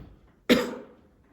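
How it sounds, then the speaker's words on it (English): A single sharp cough in a classroom, loud and close, bursting out once after a quiet moment and fading quickly, with no talk around it. "What did I do? Cough."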